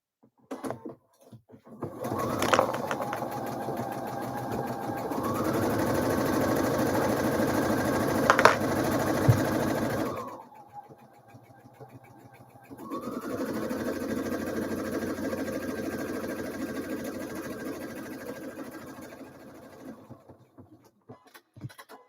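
A sewing machine sews buttonholes on a Frida blouse in two sustained buzzing runs of several seconds each, separated by a brief pause. Small clicks and handling noises frame each run, heard up close without speech.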